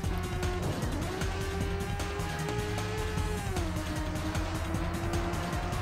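A race car in Rage Racer on the PlayStation closes in on a rival and overtakes, its engine whining loud and steady as the pitch climbs, dips and settles over constant road noise, with no voices.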